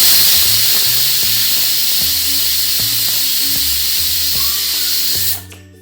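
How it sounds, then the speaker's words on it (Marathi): Steam hisses steadily and loudly from a pressure cooker of chicken curry with water on the stove, a sustained broadband rush with low rumbling knocks beneath, cutting off abruptly near the end. "2 शिट्ट्या झाल्या की झालं आपलं चिकन तयार."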